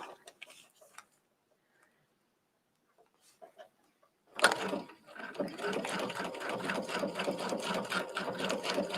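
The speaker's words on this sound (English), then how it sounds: "let's just see what this decorative stitch looks like on the plastic" A Brother sewing machine stitches a decorative pattern on plastic, a steady, dense mechanical whirr with fast ticking that starts abruptly after a quiet stretch with faint sounds and runs loud and continuous to the end.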